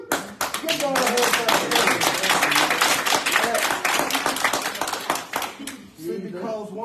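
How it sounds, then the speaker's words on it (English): A church congregation clapping hands together in a steady, dense burst of applause lasting several seconds, with voices mixed in before it fades out. "Give God a hand clap."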